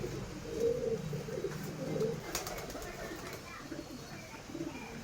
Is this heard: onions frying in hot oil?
no